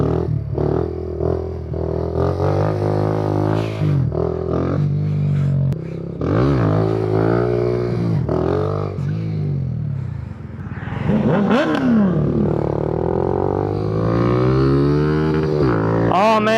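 A motorcycle is bump started and revved hard, its engine rising and falling in repeated loud, close throttle bursts and pitch sweeps, with mechanical clatter throughout.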